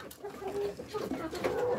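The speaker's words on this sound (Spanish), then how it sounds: "Como pueden ver, aquí tenemos a nuestra gallina." A criollo hen clucks in short, close calls from near a cage, with a person speaking alongside.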